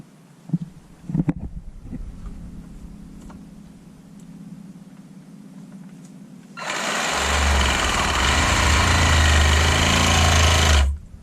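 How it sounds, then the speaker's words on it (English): A Sawzall reciprocating saw cuts through soft plastic on a skiff during a live bait well pump install, buzzing loud and steady for about four seconds after a quieter stretch of handling noise. "we're going to try to cut this off with a Sawzall here"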